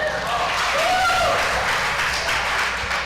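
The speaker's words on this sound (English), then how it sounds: "I didn't know we were going to get applause for this" An audience applauds in a church gathering, a steady, fairly loud wash of clapping with a voice speaking over it briefly near the middle.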